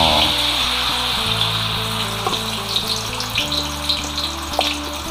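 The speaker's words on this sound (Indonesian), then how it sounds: "Bunyi desiran yang mantap ni" Blended spice paste hits hot oil in a pan for a fish asam rebus, giving a steady, loud, close crackling sizzle with scattered pops throughout, no voices.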